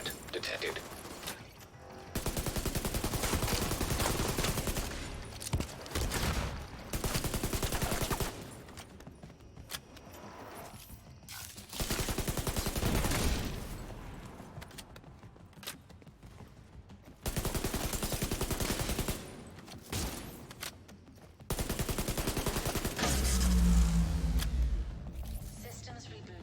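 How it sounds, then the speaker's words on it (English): Gunfire from a rogue sniper turret during a Keener mission in The Division 2: Warlords of New York, heard as repeated loud bursts of shots and mechanical clatter separated by quieter gaps, with a synthetic announcer voice at times. "Hostile sniper turret detected."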